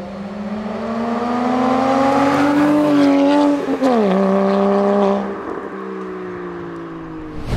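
A Porsche Cayman rated at 245 horsepower, with a manual gearbox and a non-stock aftermarket exhaust, revs loudly and climbs through the gears. Its engine note rises, dips briefly at a shift, then pulls again before easing off. No one speaks.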